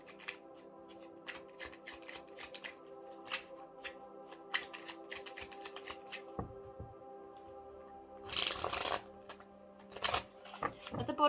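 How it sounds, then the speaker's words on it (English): Cards are riffled and shuffled repeatedly in quick rhythmic bursts, close by, ending with a few longer rustling shuffles over a faint hum. "I know this is a big shuffle."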